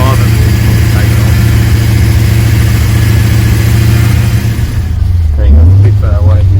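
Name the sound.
VT Clubsport rebuilt engine running at first start-up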